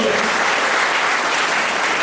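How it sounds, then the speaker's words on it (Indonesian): A church congregation at a revival meeting in Jambi breaks into applause for God, a thick, continuous roar of clapping hands at full, steady volume. "berikan dulu tepuk tangan bagi Tuhan"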